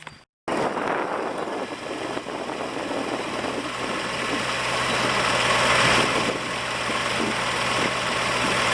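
A 1984 Corvette V8 with a misfire catches after a brief silence and settles into a steady, rumbling run, loud and close with a slight swell in the middle.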